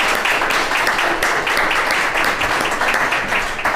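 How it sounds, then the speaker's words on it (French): Audience applauding quiz players at the end of a French-language game show, a steady dense clapping that fills the whole moment without any talk over it. "je pense bien qu'on va applaudir nos joueurs qui ont bien performé aujourd'hui."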